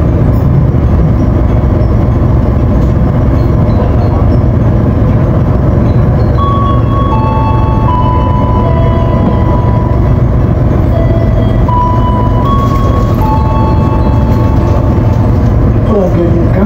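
Jakarta–Bandung high-speed train pulling into Bandung station, heard from inside as a loud, constant low rumble with tonal whines and beeping chimes layered on top, and a voice speaking over it.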